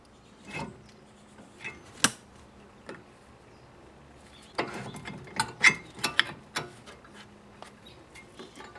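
A 9mm wrench fits onto the brake bleeder of a BMW 3 Series, E30, E36 or E46, giving sparse metallic clicks and clanks up close, then a quicker burst of ratcheting taps.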